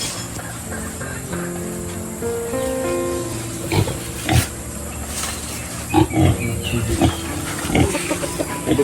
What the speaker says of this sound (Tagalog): Ayun na po yung baboy.